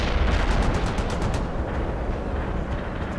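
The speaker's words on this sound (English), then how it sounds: "Coordinates received, artillery firing." Heavy artillery bombardment in the war strategy game World in Conflict, a dense continuous rumble of overlapping booms and blasts at steady loudness, with no voices over it.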